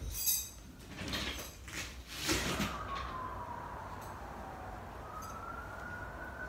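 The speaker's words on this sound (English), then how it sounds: "You hear the sirens now?" A wailing siren sweeps down then rises again in the distance, holding a steady tone over low background rumble, with a few bursts of noise early on.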